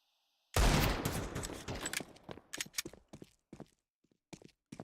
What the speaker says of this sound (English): Shots being traded, nothing connecting so far.